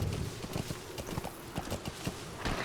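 Trotting horse hooves in Metal Gear Solid V: The Phantom Pain, a steady clip-clop rhythm of repeated hoofbeats at moderate loudness over continuous in-game ambience, with no speech.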